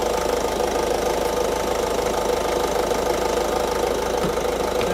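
A Ford Focus MK3.5 idles with its air conditioning compressor engaged, giving a steady, moderately loud engine drone with a faint rhythmic knock, heard up close and alone.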